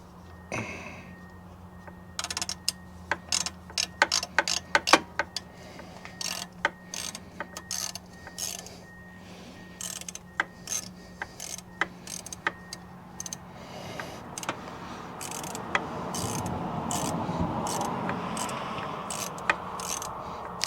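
A socket wrench ratchets on the hose clamps of a Lancer Evolution X intercooler pipe. Its clicks come in quick bursts and scattered single ticks, close and sharp, and a rustling, scraping noise rises toward the end.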